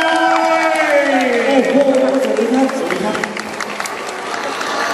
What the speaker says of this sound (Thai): ขอเสียงปรบมือต้อนรับนะครับ